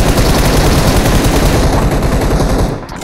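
Rapid, continuous automatic gunfire from the battle royale game BGMI fills the clip at close, loud level, a dense rattling burst that cuts off near the end.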